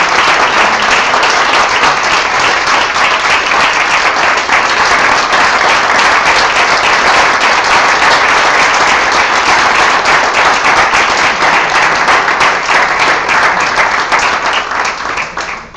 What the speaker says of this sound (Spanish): que le diéramos un fuerte aplauso